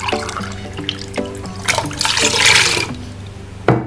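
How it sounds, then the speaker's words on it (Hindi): Water pours and splashes into a container of beaten yogurt for a gram flour curry, with bursts of gurgling, rising in the middle, then a sharp clunk near the end. "पानी ऐड कर लेती हूँ"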